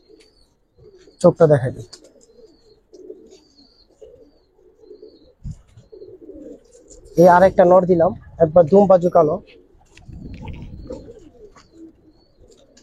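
Old-generation Giribaz pigeons coo in short bursts near the microphone, with several clustered calls, while someone talks on and off throughout.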